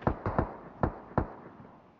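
A grenade explodes in a video game as a fast cluster of sharp blasts, five distinct booms within two seconds, loud and close with short decaying tails.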